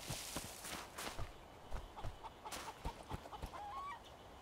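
Chickens cluck and scratch nearby in a quiet outdoor setting, with soft irregular clucks and rustling steps and no voices.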